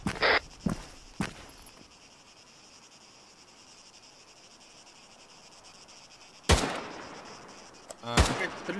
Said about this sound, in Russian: А, какая-то стрельба в городе идет.